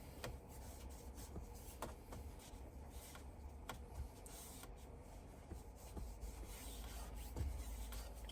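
Soft, continuous rubbing as a towel wipes the screen protector on a 2015–2020 Ford F-150 SYNC 3 display dry, a faint low scrubbing texture broken by a few small ticks, with no talk.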